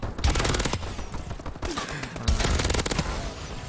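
The EM1 laser heavy weapon in Advanced Warfare fires in a loud, dense, sustained stream of rapid crackling pulses. The stream breaks briefly about midway before resuming.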